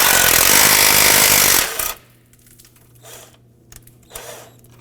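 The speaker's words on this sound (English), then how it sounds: "I'm going to loosen this one here while holding the bracket up." A power tool rattles loudly as it loosens an intercooler bracket bolt on a 2015-2020 Ford F-150 with the 2.7L V6. It runs steadily for under two seconds, then cuts off, leaving a quiet garage with faint clicks.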